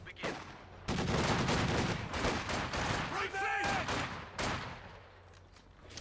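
Machine-gun fire in Company of Heroes 2 skirmish: dense, rattling bursts and overlapping shots crackle on and off, a brief whining tone rising in the middle, with a commentator talking over the battle.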